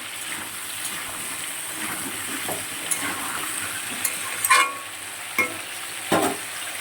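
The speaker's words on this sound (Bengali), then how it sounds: "সবজিগুলো একটু সুন্দর করে ভেজে নেব।" Vegetables sizzling as they fry in a pan while khichuri cooks for a home lunch, a constant soft hiss broken by a few sharp clinks and scrapes of a spatula against the pan.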